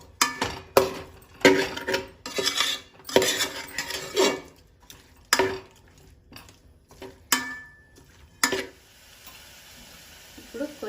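A spoon stirs a mushroom dish in a pan, producing a steady run of sharp metallic clinks and scrapes against the cookware, close and fairly loud, with quieter pauses between strokes.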